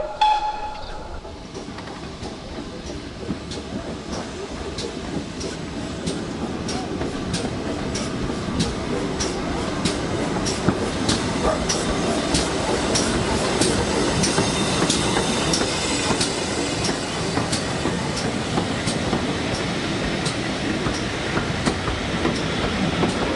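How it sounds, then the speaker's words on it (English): A steam train pulls into a station at the Severn Valley Railway spring gala, its wheels clattering in a steady rhythm over the rails with a continuous rumble that swells as it draws near, loud and without talk. "it wasn't long until another train arrived"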